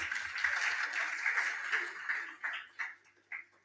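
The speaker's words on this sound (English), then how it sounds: "Let's give him a round of applause" At a generative AI conference session, the audience applauds a panelist: a steady wash of clapping that fades after about two seconds into a few isolated, separate claps.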